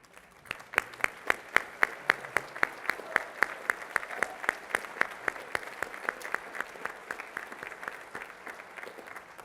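Sustained applause from a luncheon audience at Music Hall honoring the committee volunteers, dense steady clapping of many hands throughout, moderately loud and without speech.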